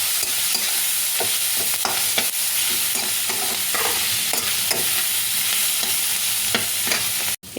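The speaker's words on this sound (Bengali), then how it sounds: "সোয়াবিনটাকে একটু হালকা ভাজা ভাজা করে নেব" Boiled soybeans fry in a pan for veg noodles, a continuous loud sizzle broken by repeated scraping stirs of the spatula, ending in a sudden cutoff with no speech.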